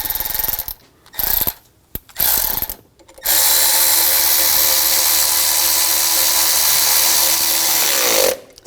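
Power tool driving a bracket bolt tight on the AC compressor of a 2006-2010 Hummer H3 3.7L: a few short bursts, then one long, steady, loud whirring run close by.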